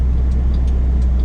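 A 1997 Toyota Town Ace van with a 2.0 diesel engine cruises on an interstate, giving a loud, steady low engine drone and road rumble with no talking.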